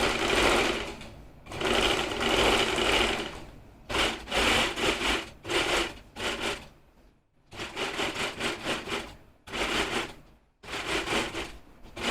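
A sewing machine stitches fabric while a yoke and pardi are being sewn, loud and close, running in steady whirring bursts of one to two seconds separated by short pauses, with no talk.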